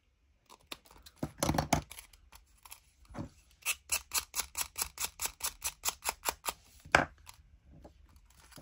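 Paper is snipped with scissors in a craft session making Halloween ephemera for a junk journal: a run of about a dozen short, evenly spaced crisp cuts, preceded by a few scattered rustles and snips, close and moderately loud.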